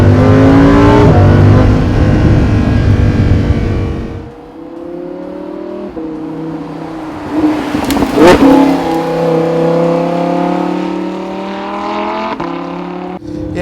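A 2016 Lamborghini Huracan LP 610-4 in Sport mode pulls away and accelerates hard, its engine revving loudly and rising in pitch through gear changes, close and alone with no talk.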